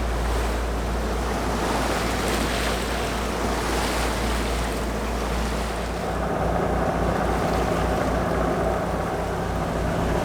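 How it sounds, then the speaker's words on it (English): A 55 ft carbon racer-cruiser sailing yacht motors through waves with its engine running, a steady close rumble beneath continuous rushing water and wind noise. "the engine's quite loud"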